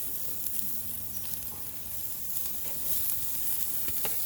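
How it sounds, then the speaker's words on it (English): Pork chops sear on a hot fire, giving a steady crackling sizzle with scattered pops, moderately close and continuous, growing slightly louder toward the end; no voices. "Now we're going to put a few of them on this hot fire right here and sear them off."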